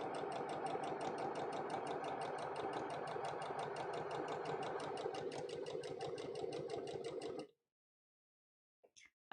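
A sewing machine stitches 100% cotton fabric with a universal needle in a fast, steady whirring rattle for about seven seconds, then stops abruptly, leaving near silence and a couple of faint clicks.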